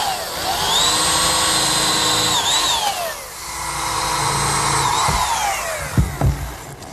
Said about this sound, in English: Now pre-drill for some screws.